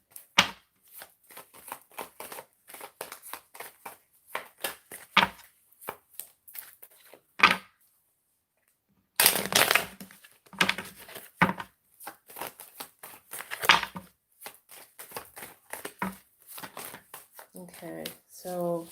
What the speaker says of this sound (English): I'm trying to make room to shuffle these cards here.